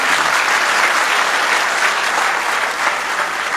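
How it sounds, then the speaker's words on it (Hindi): An audience at a live Urdu poetry mushaira in Rawalpindi bursts into dense, loud, continuous applause that fills the whole moment without a break. "इनके लिए भरपूर तालियां बजा दें।"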